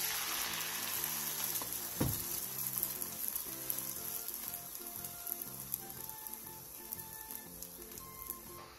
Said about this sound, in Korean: 계란 3개에 청양고추와 다진 마늘을 넣고 섞어 도톰하게 부쳐주세요